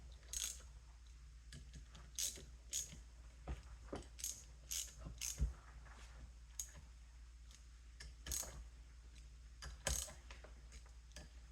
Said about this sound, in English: And go ahead and tighten those 4 bolts down to hold the oiler plate.